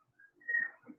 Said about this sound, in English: Happy bird.